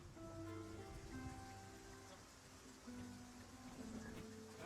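Steady rain falls in Dragon's Dogma 2, a soft continuous hiss of drops with faint tonal music tones layered through it, fairly quiet and even from start to finish.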